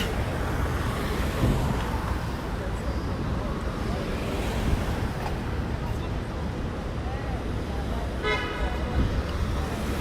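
A summer evening on Fifth Avenue in New York brings a dense, steady roar of city traffic with rushing engines and a few distant horn toots near the end. No one speaks.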